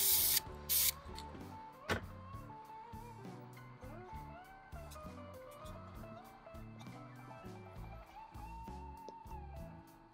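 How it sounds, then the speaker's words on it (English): A short hiss of high-heat spray paint sprayed into a small pan up close at the start, with a second brief burst, followed by a steady rhythmic mechanical background. "I'm just gonna spray into this little pan here"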